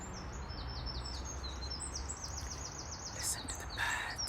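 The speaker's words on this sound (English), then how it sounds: "Listen to the birds." Outdoor birdsong with repeated chirping calls over a steady hiss of background noise, faint and somewhat distant, no voices.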